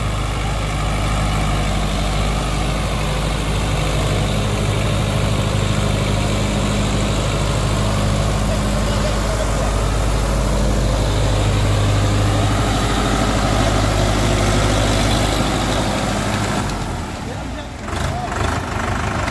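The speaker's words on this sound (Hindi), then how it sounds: "ट्रैक्टर दूसरे गियर में चल रहा है, दूसरे के लो में 1500 RPM के साथ में" A Sonalika DI 750 III DLX tractor runs in second gear low range at about 1500 RPM, a loud steady diesel drone with strong low rumble that continues unbroken until a slight dip near the end, with talk beneath.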